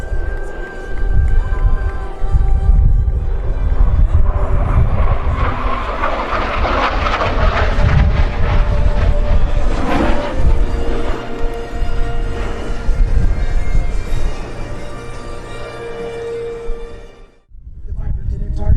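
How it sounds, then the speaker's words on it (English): A USAF F-16 Fighting Falcon makes a demonstration pass at the 2015 Rhode Island airshow at Quonset, its loud jet roar building, peaking and sweeping past over crowd noise and a public-address voice, then cutting off abruptly near the end. "One more pass with Captain Kingstown in the F-16 Fighting Falcon."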